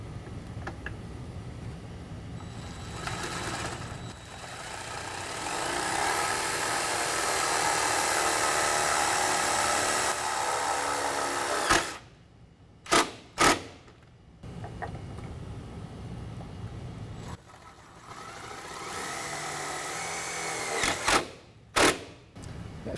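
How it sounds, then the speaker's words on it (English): A 3/8 inch driver runs number 14 one-inch self-tapping screws into a running-board bracket on a Chevy Express, a long buzzing whir that swells and eases, broken by sharp clicks and a second shorter run of driving. "Then we're going to use the provided number 14 1-inch long self-tapping screws, using a 3/8" driver to put that in place."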